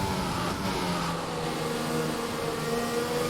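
Race car engine in a PC racing sim lapping the Shanghai circuit in China, held high in the revs in a tall gear: a steady, sustained whining drone with even harmonics, continuous and fairly loud, with no voices.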